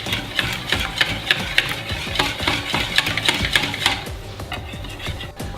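Melted chocolate and crème fraîche being stirred steadily in a bowl, a continuous close scraping and swishing with regular strokes throughout, no talking.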